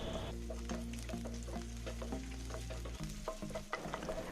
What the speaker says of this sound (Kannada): ಮೆಣಸಿನಕಾಯಿ ಬೆಳ್ಳುಳ್ಳಿ ಎಲ್ಲ ನೋಡಿ ನೀಟಾಗಿ ಫ್ರೈ ಆಗಿದೆ.